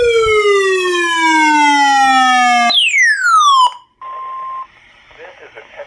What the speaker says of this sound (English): This is a test of the National Weather Service NOAA Weather Radio Warning Alarm System.